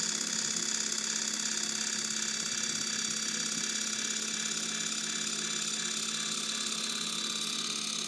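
Electric motor of a Vevor 12V 6600 lb motorized scissor jack lowering with no load, a steady whining drone held at an even level throughout, close and uninterrupted with no voices.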